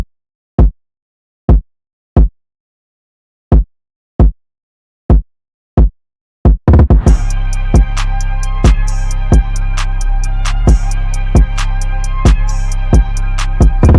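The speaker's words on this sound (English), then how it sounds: "we have the identical kick" A punchy kick drum sample from a remake of a track thumps alone in an uneven pattern for several seconds, then continues beneath a full, loud beat that comes in.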